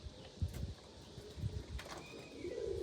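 Pigeons coo in a loft with low, throaty calls repeating in soft pulses, mid-distance and moderately quiet against a faint background hum, with a brief thin whistle-like sound near the end.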